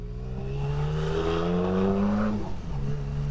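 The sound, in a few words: BMW K75 motorcycle accelerating in first gear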